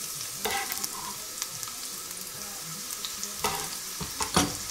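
Chopped shallots sizzle and crackle in hot oil in a pan, with steady frying noise and scattered sharper pops and stirring clatters.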